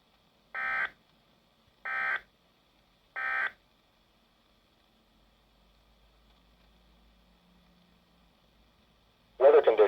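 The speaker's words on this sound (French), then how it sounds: "The preceding tone was a test only. It is intended to test the weather radio tone alarm feature." Three short, identical electronic weather radio test alert tones from a Canadian weather broadcast sound at even intervals, followed by a quiet pause, then a voice begins at the end.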